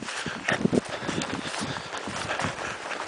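A horse's hooves clip-clopping in a quick trotting rhythm on the ground of a ranch obstacle course, fairly close, with faint outdoor background noise.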